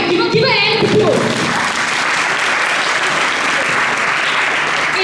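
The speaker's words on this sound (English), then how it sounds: "Give a hand of applause." Audience applause at a career expo talk show, a dense burst of clapping that carries steadily through the whole stretch, loud and close, with brief voices at the start.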